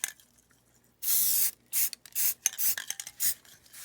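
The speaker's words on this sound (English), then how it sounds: "next I'm going to primer these while looking through my camera" Primer sprayed from an aerosol can onto lower dash parts from a 1978 Corvette C3, coming as one long hiss and then a series of shorter close bursts with brief pauses, no talking.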